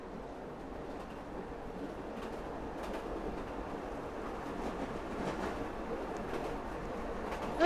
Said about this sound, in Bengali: ট্রেন আসছে।